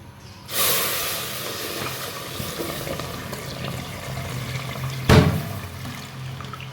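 Full-fat milk hits hot caramelized sugar in a pot with a sudden loud hiss of steam that settles into a steady seething, then a sharp clunk and another brief surge.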